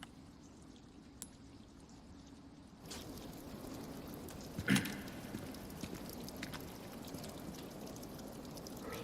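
Faint, steady running water trickles and pours in a Resident Evil 4 game area, a soft continuous hiss with a sharper knock partway through and a few small clicks.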